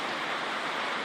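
Rain falling during a storm from Hurricane Florence, a steady dense hiss of rainfall with no breaks, close and fairly loud.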